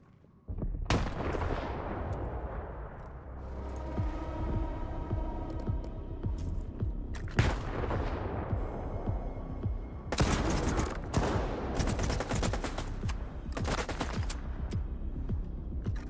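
Gunfire and grenade blasts fill a firefight in the S.T.A.L.K.E.R. 2 video game, with dense rattling shots and several heavy booming bursts that recur every few seconds, loud and continuous.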